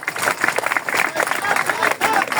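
Audience applause at an office gathering in a hall, a brief burst of many hands clapping with crowd noise and voices mixed in.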